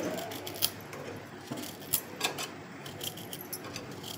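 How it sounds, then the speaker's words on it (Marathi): A knife slices through an inch of fresh ginger for a dosa chutney, giving soft, faint clicks and taps against the board in an uneven rhythm, with a couple of sharper knocks, and no talking. "1 इंच आलं कापून घेते"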